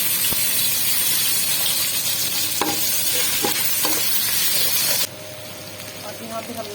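Chopped onions and ginger paste fry in a pan for chicken biryani, a loud, continuous sizzle with occasional stirring scrapes, dropping slightly in level near the end, while a voice talks faintly over it.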